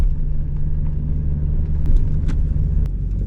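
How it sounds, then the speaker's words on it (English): A Cadillac drag racing car rumbles past at a bracket race, a steady low roar from a distance with no talk over it. "There goes that Cadillac."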